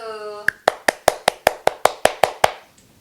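About eleven sharp, close hand claps in a steady, even rhythm, heard alone at home after an exercise session, with a brief voice just before the first clap.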